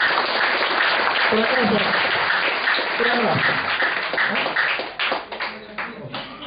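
Audience applause for Pak Suroyo at an indoor Prudential business gathering, dense steady clapping filling the clip before thinning out near the end, with a voice speaking briefly over it.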